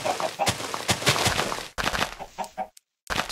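Chickens cluck in short, jerky bursts in the Minecraft video game, fairly close and repeated over a few seconds, with a brief gap of silence near the end.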